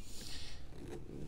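Zipper on the front pocket of a bag, a short, fairly quiet rasp pulled close by, alone.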